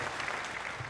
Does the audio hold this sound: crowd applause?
yes